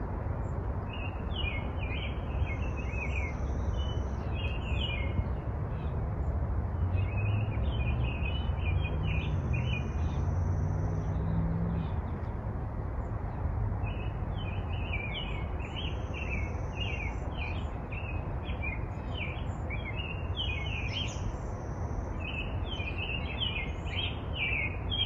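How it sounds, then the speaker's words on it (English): Many birds sing and chirp continuously over a steady low background hum, a dense outdoor chorus with no talking. "It's not so much for the sight, but the sounds of the bird song."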